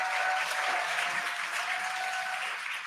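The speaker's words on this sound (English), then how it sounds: "You can hear the crowd here." A crowd cheers and applauds steadily as the Dragon Freedom spacecraft descends toward splashdown, a dense continuous roar of clapping that stays loud throughout with no talk.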